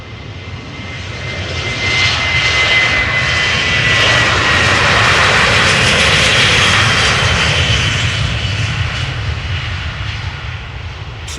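An airliner takes off at Amsterdam Schiphol Airport, its engines a loud, steady roar that swells over the first few seconds and holds for the rest of the clip, with no voices.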